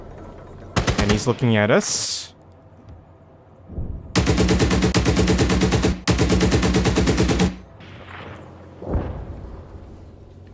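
Long, loud bursts of rapid automatic cannon or machine-gun fire while engaging an IFV in the Gunner HEAT PC tank game, two sustained volleys with a short break and earlier brief bursts, someone speaking briefly between them.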